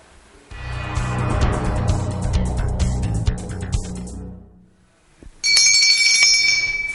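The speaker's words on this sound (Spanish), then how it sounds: "Sigue sonando La Campana." A bell rings in a Colombian local news broadcast, with a bright ringing tone standing out near the end after a stretch of louder mixed sound and a brief lull.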